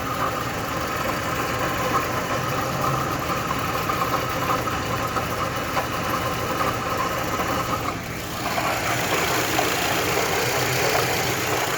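A Mitsubishi Lancer 10 engine runs at a steady idle, heard up close with a rattling, chain-like knock from a failing water pump running through the constant mechanical drone.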